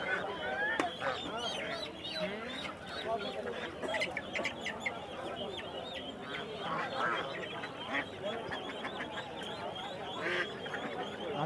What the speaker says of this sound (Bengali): আর এখানে আছে রাজহাঁস।